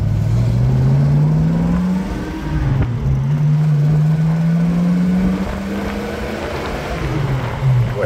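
A 1966 Ford Mustang convertible with a 289 V8 and four-speed manual accelerating, a loud, close engine note rising steadily through a gear, dropping briefly at a shift, then climbing again.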